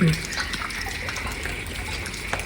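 Steady rushing water gushing continuously, moderately close, with a faint voice briefly at the start.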